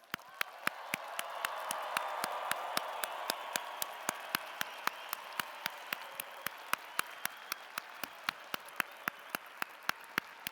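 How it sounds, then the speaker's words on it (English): A crowd applauds the winter graduates at the 2022 UW–Madison commencement. The clapping swells in the first few seconds, then thins, while a steady series of sharp, evenly spaced clicks runs over it. "let's give one more giant round of applause to our class of 22 winter graduates"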